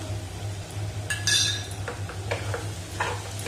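A spoon scrapes and clinks against a pan while a banana and jaggery mixture with ground cardamom is stirred, several distinct metallic taps and scrapes over a faint low sizzle.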